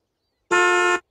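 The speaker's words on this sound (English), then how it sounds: "I'll let you honk the horn 1 time" A single car horn honk blares loud and close for about half a second after a brief silence, then cuts off cleanly.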